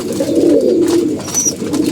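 Low, throaty pigeon cooing rolls on steadily and fairly close, a continuous warbling murmur with no talk.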